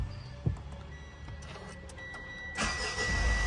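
A car engine cranks and catches, settling into a steady idle close by after a brief click and whir, with no talking.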